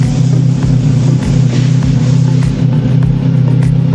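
A motorcycle engine runs on a dyno inside a tuning shop, a loud, steady droning rev held close by with slight pulsing throughout, no voices.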